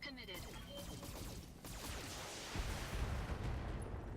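Mech weapons fire off in a BattleTech battle, a dense run of rumbling booms and crackling volleys that swells louder near the end, with faint talk mixed in.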